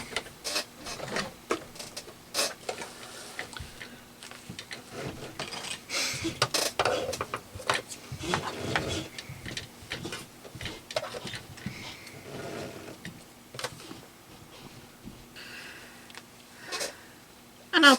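A sewing machine stay stitches a potholder towel, running backwards and then forwards in rapid mechanical bursts with short pauses between them.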